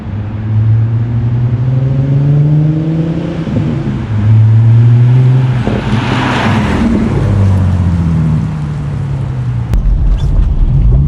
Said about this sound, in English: now I'm actually driving my car